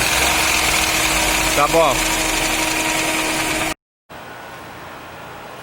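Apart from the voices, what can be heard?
Ford Ka three-cylinder engine noise while revving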